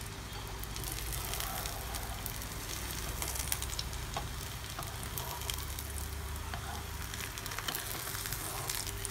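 Cake made from leftover rice frying in a pan, a steady soft oily sizzle with fine crackles and pops, continuous and fairly quiet.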